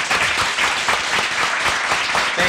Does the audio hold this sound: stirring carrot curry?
no